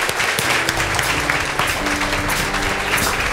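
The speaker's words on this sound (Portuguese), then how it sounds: "Uma salva de palmas para Jesus" Church congregation applauding for Jesus at a worship service: dense, loud, continuous clapping from many hands, filling the space without a break.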